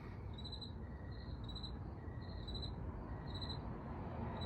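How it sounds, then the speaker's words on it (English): Crickets chirp in a regular pulsing rhythm, about one burst every second, faint and distant over a low steady background rumble, with no voices. "the background noise, the crickets"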